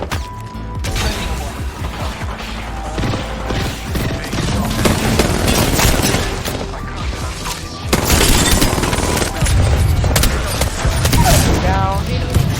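Video-game gunfire in a shooter with minigun upgrades, dense bursts of shots and booming impacts over continuous action noise, loud and close throughout, with a player talking in places.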